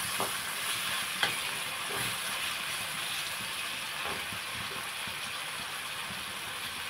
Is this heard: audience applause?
no